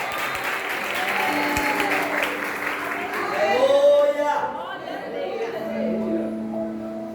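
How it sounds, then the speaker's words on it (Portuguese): A church congregation applauds during a prophetic worship service, clapping and cheering swelling loudly under a preacher's voice, then fading as he resumes speaking in Portuguese. "Você pode aplaudir o Senhor?"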